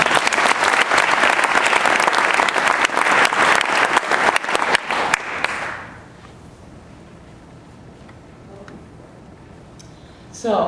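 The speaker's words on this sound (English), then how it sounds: "let's give Coach Christie a round of applause" A crowd at a high school state championship team celebration applauds a coach, dense, loud clapping lasting about five seconds, then fading abruptly into quiet room tone.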